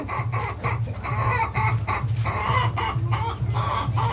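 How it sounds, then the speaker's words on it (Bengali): Brahma hens cluck in a steady, rhythmic series of low, close calls, repeating every half second or so with faint farmyard noise around them. "এই পাশেও আমার মুরগি আছে"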